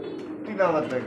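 Pigeons coo briefly at a busy pigeon market, a soft low throaty call partly mixed with nearby voices of people bargaining.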